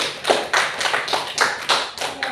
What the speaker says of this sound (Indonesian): tepuk tangan dulu buat Tiara